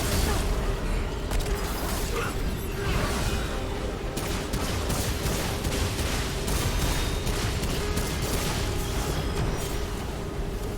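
Shotgun blasts and Scrap Shot fire in the video game Remnant 2 during a boss fight with the Red Prince, as a dense, steady barrage of loud shots and mechanical clatter runs throughout.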